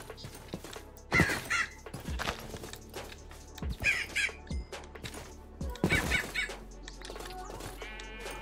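Bird calls in Minecraft, several loud honking caw-like cries in short bursts spaced a few seconds apart over a low game background hum.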